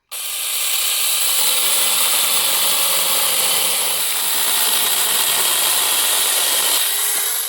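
A portable electric chainsaw pole pruner with a brushed commutator motor runs at full speed, giving a loud, steady, high-pitched whine that holds unbroken for about seven seconds with no voices over it.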